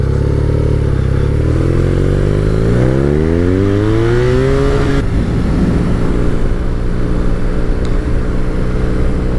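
Motorbike with a 1170cc, 110 horsepower, six-gear engine ridden on the road, loud and close, revs climbing through several gears in rising sweeps, then settling into a steady cruising drone, no talk.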